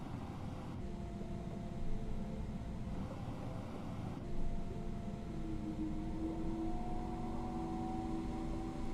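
FsLabs A321neo with Pratt & Whitney engines taxiing in a flight simulator: a steady, loud engine roar with a broad rumble and faint tonal whines that rise slightly near the end, continuous with no talk.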